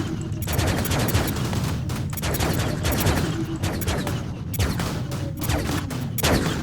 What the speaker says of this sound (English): the turrets kind of self-fire themselves